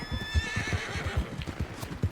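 A horse in the video game Red Dead Redemption 2 whinnies once near the start while its hooves clip-clop in a steady rhythm, close and clear, with no voices.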